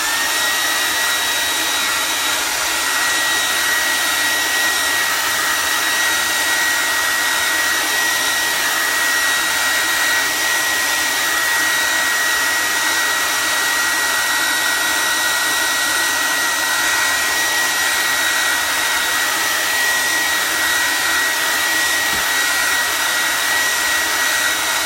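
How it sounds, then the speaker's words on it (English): A hair dryer blows steadily at close range, drying chalk paste on a rustic wreath, a continuous even whoosh with a faint high whine that runs unbroken with no talking. "we're going to do a hair dryer one more time to dry that off"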